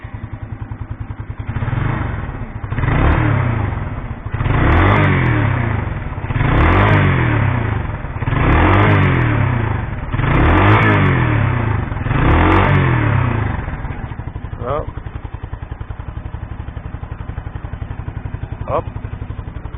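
A 1987 Yamaha SR 125 SE motorcycle engine warming up, idling and revved repeatedly in steady bursts, loud and close, then settling back to a rough idle.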